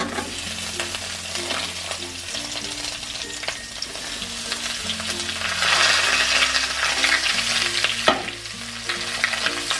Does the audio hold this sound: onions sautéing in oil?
yes